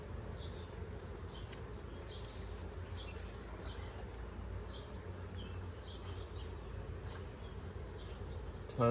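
Honey bees swarm and hum steadily in an opened nine-frame hive full of brood and pollen, a dense continuous drone close by with no talk.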